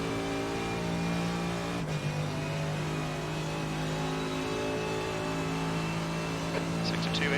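A GT race car in the iRacing simulator holds a steady, droning engine note with a sharp click partway through, heard from inside the car, with no talk over it.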